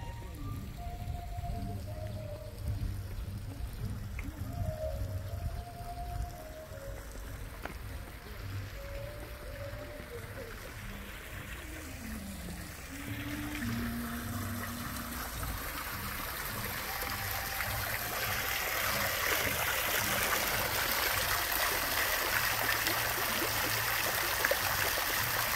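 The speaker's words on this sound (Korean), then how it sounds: "물 떨어지는 소리 나는데 재밌네." Water drips and trickles steadily in Byeokchoji, a European-style garden in Paju, with a soft, continuous patter that grows slightly fuller partway through and faint outdoor sounds around it.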